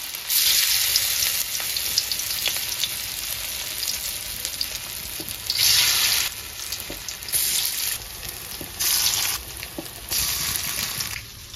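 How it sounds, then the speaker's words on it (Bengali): Banana stem fritters fry in hot oil in a kadai, a continuous loud, crackling sizzle with several swelling bursts as pieces shift, heard close with no talking. "এখন আমি বড়াগুলো ভেজে নেব।"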